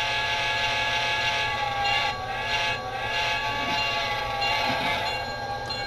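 A Broadway Limited Blue Line Edition model train sounds its horn whistle, a sustained steady tone with faint mechanical running noise beneath, continuous and fairly close.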